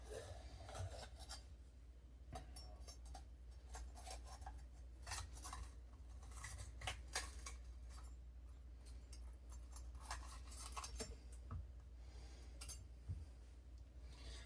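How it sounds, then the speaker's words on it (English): A kitchen knife slices around the tops of six bell peppers for stuffing, giving quiet, uneven rasping scrapes and occasional sharper clicks against a steady low background hum, with no talk. "Wants me to cut the tops off."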